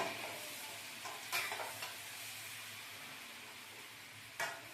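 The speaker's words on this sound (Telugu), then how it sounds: "బాగా ఒక పది నిమిషాలు నూనెతో మగ్గనిద్దాము" Stuffed eggplant curry (guthi vankaya) simmers in oil in a pan, giving a faint, steady sizzle with a few brief stirring scrapes.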